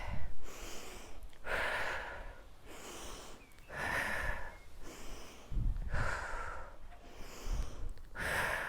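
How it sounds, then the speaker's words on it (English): Slow, deep breaths during a breathing exercise in an energy-boosting workout, each long airy exhale and inhale audible up close in a steady rhythm about every two seconds, with a faint nasal snort. "breathe out."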